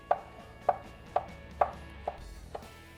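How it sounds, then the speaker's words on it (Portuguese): A knife chops bacon finely on a board, with six sharp, evenly spaced knocks about half a second apart, close and crisp over a quiet background. "vou cortar o bacon"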